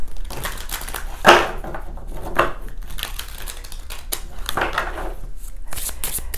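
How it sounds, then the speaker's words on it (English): A deck of tarot cards being shuffled by hand, with several brisk riffling bursts and soft papery rustles at close range, mostly alone with little else around. "And I'm just going to give these a good shuffle."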